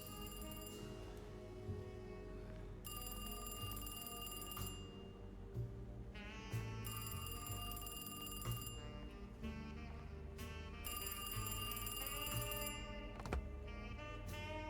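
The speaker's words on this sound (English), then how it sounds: "I gotta answer that phone" A telephone rings in repeated bursts of bright, bell-like tones against a low background hum, each ring separated by short gaps, fairly loud and with no voices.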